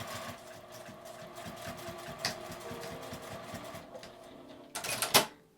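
Sewing machine stitching fabric for a glasses case, a quiet rapid mechanical chatter with steady rhythm, ending in a brief louder rattle as the stitching stops.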